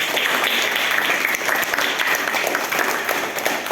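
Students in a school leadership training session applaud steadily and fairly loudly, a dense wash of clapping that holds evenly for a few seconds without any voices on top.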